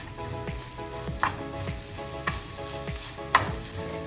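A spoon stirs ground chana dal in a hot cooking pan with a steady sizzle, and soft scraping strokes recur about once a second, close and clear with no talk.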